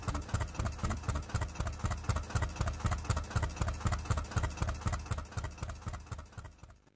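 Tractor engine idling close by with a steady, rhythmic diesel chug of evenly spaced low pulses that fades slightly near the end, with no voices.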